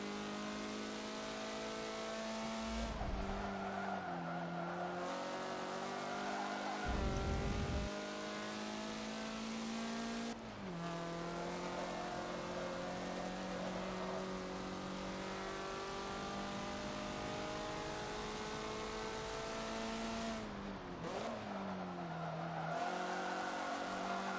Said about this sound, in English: I'm just gonna leave y'all with the sounds of the MX-5s